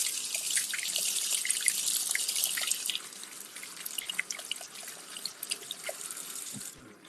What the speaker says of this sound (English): We're going to give it a little rinse.